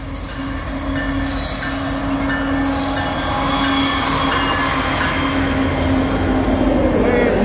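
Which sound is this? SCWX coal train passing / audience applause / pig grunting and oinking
SCWX coal train passing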